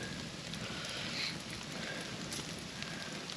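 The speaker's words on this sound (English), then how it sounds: "I don't know if it's going to stop raining by the looks of it." Rain falls on a cold, wet hunting camp in the Kaimanawa hills, a soft steady patter and hiss with light wind, quiet and even throughout, with a faint chirp near the start and no talking.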